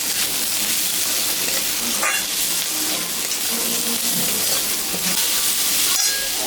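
Potato and onion sizzle steadily in a pan after salt and turmeric are added, a loud, even frying hiss with occasional scrapes and clatters of stirring, and no talk.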